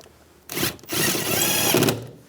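A power tool, likely a drill or impact driver, runs in two close bursts tightening the two bottom bolts on a side mirror of a 2015-2020 GMC Yukon, a short whir followed by a longer steady run.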